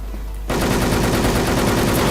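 Gunfire in the online shooter Wolfteam breaks out after a half-second lull, a dense, fast stream of automatic shots that keeps up steadily to the end with no voices.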